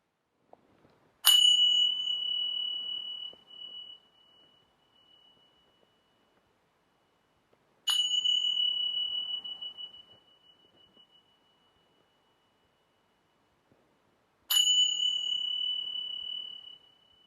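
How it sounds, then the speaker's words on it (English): Meditation bells ring three times at even intervals to close the session, each a clear bright strike that slowly decays into near silence before the next. "letting the sound of the bells indicate the end of this meditation"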